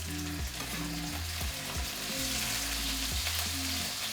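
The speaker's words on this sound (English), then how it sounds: "Toss in the tomatoes as soon as they are ready." Tomatoes hit a pan of frying garlic, setting off a steady, loud sizzle and crackle that stays close and even throughout, with a low hum underneath.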